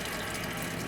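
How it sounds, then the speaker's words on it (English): Tap water running into a kitchen sink to fill it around a turkey being thawed; a loud, constant gushing rush up close with no break. "And then I'm just going to let this run so that my turkey is completely submerged in this 70-degree water"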